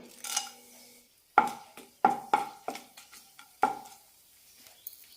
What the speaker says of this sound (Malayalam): എണ്ണയിലേക്ക് പട്ട ഗ്രാമ്പ് ഏലക്ക വഴനയില ഇടാം